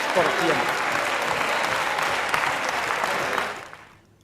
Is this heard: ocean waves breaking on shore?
no